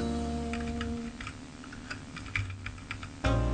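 Keys tapped on a computer keyboard while filling in a website registration form, irregular clicks over a steady low hum, moderately close, with a thump near the end.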